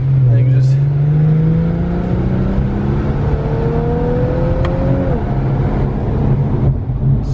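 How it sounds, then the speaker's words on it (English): 2019 Infiniti Q50 engine heard from inside the car while slowing down, loud steady engine drone whose pitch falls, then blips and drops again as it downshifts, with people talking over it. "You can downshift as you slow down,"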